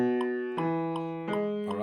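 Piano playing a slow beginner scale in half notes, three or four evenly spaced strikes each held and ringing, close and quiet with no voices.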